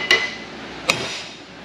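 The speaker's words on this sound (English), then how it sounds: "Take the hammer and whack the end of the threads." Two sharp, ringing metal hammer strikes on the end of the threads on a Ford F250 suspension during a rebuild, spaced about a second apart and close to the microphone.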